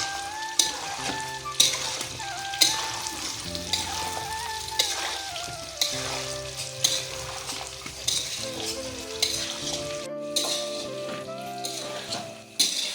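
Mango pieces being stirred and fried in a pan for pickle, a soft continuous sizzle broken by rhythmic scraping knocks of a spatula against the metal, close by.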